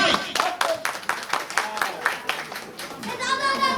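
Audience clapping for a dancer on stage at a Basanta Utsav spring festival event, a burst of fairly close applause with some children's voices mixed in, lasting several seconds.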